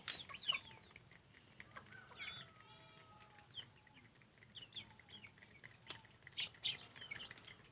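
Chickens cluck and chirp close by, with scattered squawks and a brief flutter of wings. Soft background noise runs underneath.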